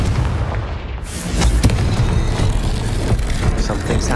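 A Confringo blasting spell explodes in Hogwarts Legacy, a sudden loud boom after a brief quiet moment, followed by a rolling, crackling rumble of debris and effects that lingers for several seconds.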